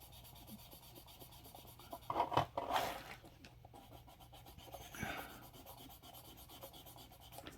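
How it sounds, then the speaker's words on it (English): Fine sandpaper rubbed lightly by hand over a surface on an Aqua rod race team build, a faint scratchy rasp with a few louder strokes in the middle. "I'm not putting a lot of pressure. Just kind of letting the sandpaper do the work."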